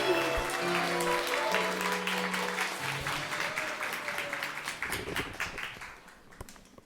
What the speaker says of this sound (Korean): 우리 신부에게 뜨거운 박수 부탁드리겠습니다